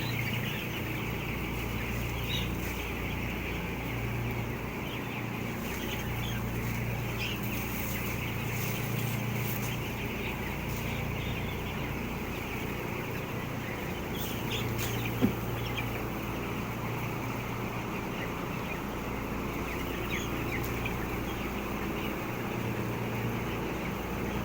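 Chickens on a farm are being fed and watered, their clucks scattered and continuous under a steady background hiss and hum, with no talking.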